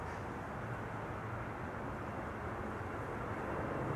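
An Aer Lingus airliner takes off at Amsterdam Schiphol, a faint, steady, distant engine roar sustained throughout with no voices over it.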